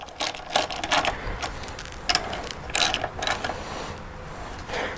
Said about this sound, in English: I'm going to tighten these down first. And right now I'm just going to run them down snug.